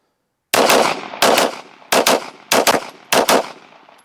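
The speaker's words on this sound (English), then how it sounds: "I took the Glock out of the MCK kit, got 10 rounds loaded up. Let's try this again." Glock Gen 3 pistol fitted with a PR trigger firing five loud, sharp shots in close succession, each crack ringing out briefly, with no talking.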